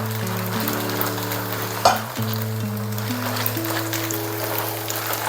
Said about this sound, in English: if you can hear sizzling, that's the tofu